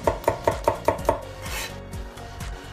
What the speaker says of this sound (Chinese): 泡姜切成丝，大蒜切片备用